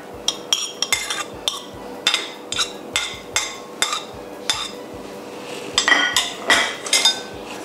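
Plates and cutlery clink and knock repeatedly while rice vermicelli and vegetables are set out in a home kitchen, sharp close strikes in an uneven rhythm, with a busier cluster near the end.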